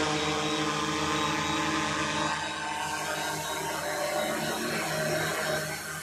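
DJI Mavic 4 Pro drone hovering close overhead, descending toward a truck bed: a steady, loud whirring buzz of propellers with a constant multi-toned drone that holds throughout without pause.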